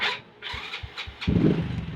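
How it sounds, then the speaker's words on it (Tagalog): Honda XRM 110 motorcycle with a smoky engine is started: a few brief clicks, then the engine catches midway and settles into a close, low, steady rumble. "So, on ko ang susi. Tapos start natin makina."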